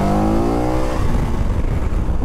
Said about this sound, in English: This is the KTM 1290 V-twin, you know, like what's in the Super Duke,